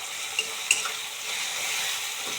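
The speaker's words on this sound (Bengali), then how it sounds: "পেঁয়াজটাও বেশ ভালো করে ভাজা হয়ে গেছে।" Onion, tomato and capsicum stir-fried for chilli chicken, with a close, steady sizzle and a few sharp spatula clicks and scrapes near the start, no voices.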